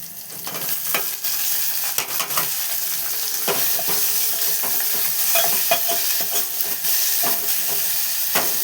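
Thinly sliced brinjal fries in hot oil with a loud, dense, crackling sizzle, punctuated by repeated sharp stirring scrapes and clatters close by.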